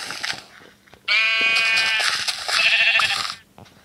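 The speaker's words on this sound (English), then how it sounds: "There's so many sheeps around here." Sheep in the Minecraft PE video game bleat in one long, loud, harmonic-rich call lasting over two seconds, with a short break midway, after a few faint soft sounds.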